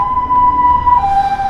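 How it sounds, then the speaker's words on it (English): An ambulance siren wails loudly and close by at a busy city intersection in China, holding one steady tone and then stepping down to a slightly lower pitch. "Ambulance."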